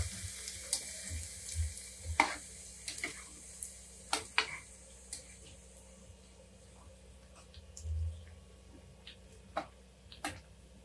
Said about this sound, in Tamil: இந்த மாதிரி எல்லா துண்டுகளையும் நம்ம போட்டு பொரிச்சு எடுத்துடலாம்.